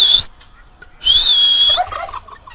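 A sharp human whistle sounds briefly, then a white turkey answers with a loud, close gobble under a second longer whistle, followed by softer fowl chatter on a farm.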